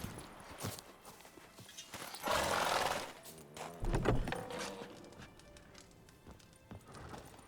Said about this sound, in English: Is that the horse?